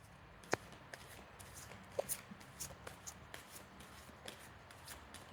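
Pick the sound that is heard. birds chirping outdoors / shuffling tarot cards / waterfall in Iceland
shuffling tarot cards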